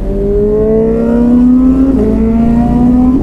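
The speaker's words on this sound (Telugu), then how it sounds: "S1000 ఒక్కటే ఒక 2-3 బైక్స్ కలిస్తే ఎంత సౌండ్ వస్తుంది అంత సౌండ్ వస్తుంది" A BMW S1000 superbike engine, fitted with an aftermarket exhaust, revs loud and close in one sustained, rising and falling roar with no talk over it.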